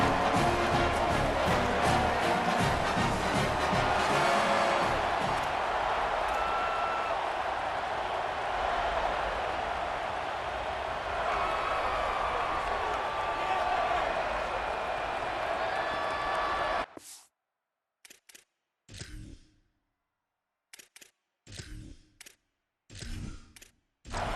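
Large stadium crowd roaring at the opening kickoff of an Iowa Hawkeyes football game against Northern Illinois, a dense sustained cheer for about seventeen seconds that cuts off abruptly into silence broken by short bursts.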